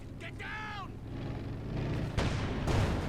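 Infiltration grenades set off a demo charge in the Company of Heroes 2 game. A short voice-like whistle rises over a low battlefield rumble, then two sharp, loud blasts land close together near the end.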